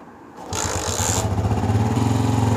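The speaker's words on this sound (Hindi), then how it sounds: "बाइक स्टार्ट करो बेटा।" A motorcycle engine starts after a brief quiet moment, catching and settling into a steady, close, pulsing idle that grows slightly louder.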